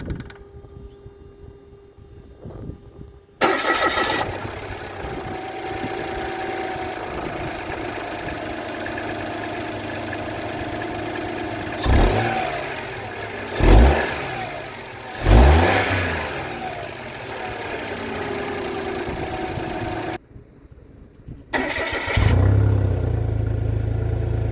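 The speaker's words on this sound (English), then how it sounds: "Now that I have the car running" A 2021 Mitsubishi Mirage rental car starts up and settles into a steady, moderately loud idle, with a few revving swells partway through before it cuts out briefly and resumes, no talking.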